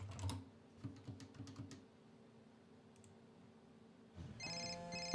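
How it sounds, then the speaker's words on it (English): Keyboard typing and a few clicks come first, then a quiet lull, then a telephone ringtone starts up close and rings loudly at the end. "Should have put that phone on silent."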